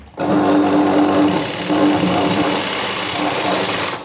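A sewing machine runs in one loud, steady burst, stitching along the middle of a sari petticoat to take it in; the motor whirs close and continuous for about four seconds.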